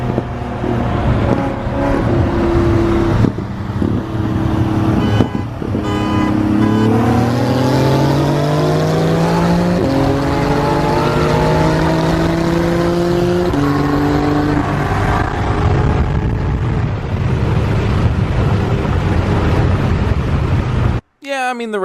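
A car in a street race accelerates hard, its engine note climbing repeatedly through gear changes with a brief let-off, loud and close from inside, with talking over the engine throughout.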